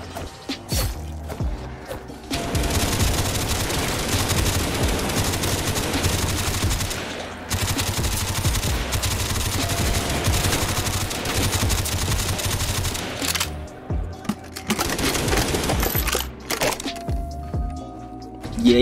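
Sustained loud automatic gunfire from a machine gun in a Call of Duty Zombies video game, a dense continuous burst lasting most of the stretch, with brief breaks near the start, middle and end.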